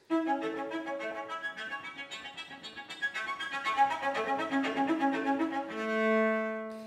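A cello passage bowed near the bridge, a run of quick glassy, whistling notes with bright overtones, ending on a held note that swells.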